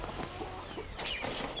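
Chickens cluck softly near their coop at a mountain tent home, a few faint, quick clucks and rustles close by in a quiet setting.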